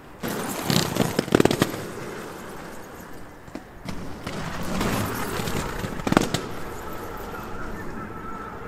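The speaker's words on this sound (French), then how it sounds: "c'est le bruit des roues sur les marches qui font tac-tac-tac-tac-tac-tac-tac" Inline skate wheels clatter down a flight of stairs in a few quick bursts of sharp, rapid tac-tac clacks, separated by quieter stretches of background noise.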